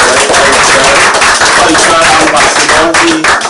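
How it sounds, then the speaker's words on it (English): Loud, dense applause from an audience at a steel orchestra launch event, continuous clapping filling the room with a voice speaking over it. "I'll give him a round of applause"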